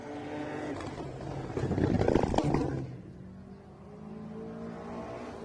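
A rally car climbs in revs on a hill stage and roars loudest midway, then drops to a quieter idle-like drone with lighter engine tones trailing; turbocharged and non-turbocharged cars are both out on the stage.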